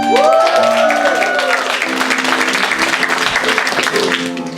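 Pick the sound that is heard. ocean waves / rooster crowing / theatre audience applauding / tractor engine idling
theatre audience applauding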